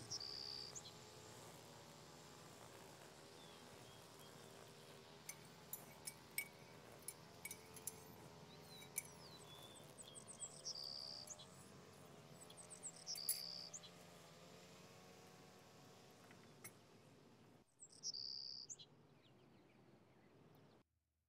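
Outdoor ambience in Nancy Drew: Legend of the Crystal Skull, with birds and a lawnmower. A steady, quiet hum runs under faint chirps and occasional soft clicks, then drops out near the end.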